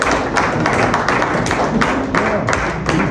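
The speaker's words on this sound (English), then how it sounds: "Give him a round of applause." Loud close applause at an NDC fundraising event in Dubai for a donor, dense rapid hand claps from a room of people continuing steadily.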